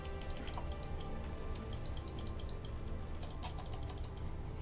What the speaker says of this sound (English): I'm clicking them at the same time.